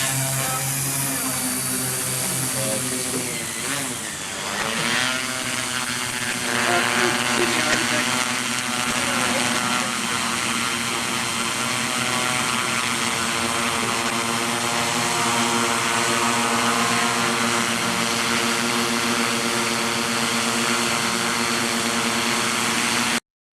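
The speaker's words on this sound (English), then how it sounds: "this is our video of the first drone flight on Main Street, and you might want to turn your volume down because it is a little bit loud" A drone takes off and flies over Main Street on its first flight there, giving a loud, steady, multi-toned propeller whine with a brief pitch shift early on, close and continuous with no talking.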